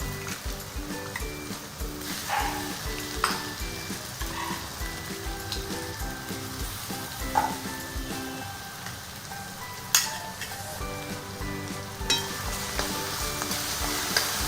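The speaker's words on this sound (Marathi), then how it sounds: "मस्त कांदा असं परतून घेणार आहोत आपण।" Onion sautéing in a pan with ginger, garlic and green chili paste for pav bhaji, a steady crackling sizzle with intermittent spatula clinks and scrapes.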